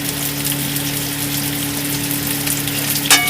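Green chillies and cashews fry in hot oil in a pan for a Bengali egg korma, making a constant dense crackling sizzle like light rain, with a low steady hum underneath and a brief clatter near the end.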